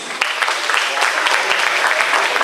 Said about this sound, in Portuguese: Eu quero pedir ao restante da igreja, os idosos, para que dê uma salva de palmas para os jovens